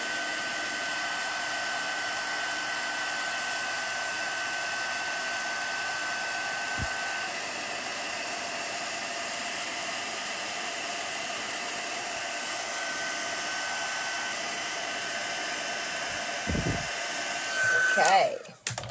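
A heat tool drying a stamped card blows with a steady, even whirring hiss for most of the stretch before it is switched off with a brief clatter at the end.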